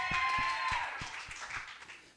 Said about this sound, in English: They said woo in addition to their clapping.